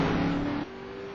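A Mosler race car racing at the Nürburgring, its engine roaring loud and close with a sustained high-revving note that drops sharply partway through.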